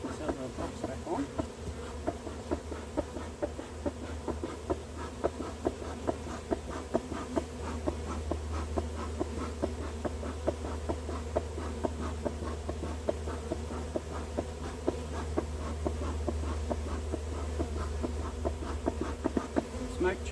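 Honey bees swarm and buzz around an open hive being inspected and smoked, a steady dense drone close to the microphone that continues throughout with low rumble underneath.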